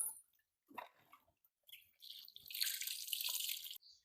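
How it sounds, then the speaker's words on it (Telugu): Clay-laden water strained through a sieve while a Ganesh idol is made at home: a few faint drips at first, then a steady splashing, trickling pour for over a second before it cuts off. "ఇప్పుడు ఈ వాటర్ ని జల్లెడలో ఇలా వడగట్టుకోవాలి"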